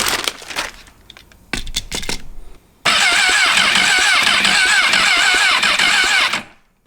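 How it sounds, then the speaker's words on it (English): Honda CBR1000RR motorcycle engine on a rebuilt wrecked bike turning over on the starter, two brief cranking attempts followed by a long loud whirring crank that cuts off abruptly, close up. "Motor turns over."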